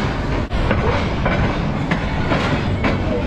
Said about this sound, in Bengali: ছেড়ে দিচ্ছে ট্রেন